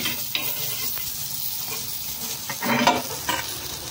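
Bangda mackerel frying in hot oil while being pressed down in the pan: a steady, close crackling sizzle with soft scraping, swelling into louder spattering bursts near the end. No one talks.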